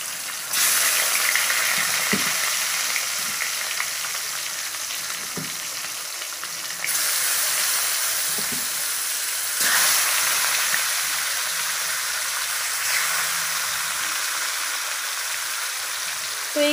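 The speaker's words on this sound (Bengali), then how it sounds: "মাছটা ভেজে নিই।" Fish fries in mustard oil in a kadai with a loud, steady sizzle and crackle. Soft knocks of a utensil sound now and then against the pan.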